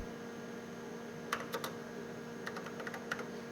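Fingers type a robot program on a computer keyboard in a quiet lecture room, short clusters of light clicking keystrokes over a steady faint electrical hum, with pauses between bursts.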